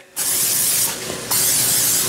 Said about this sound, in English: Make sure you spray it with some non-stick.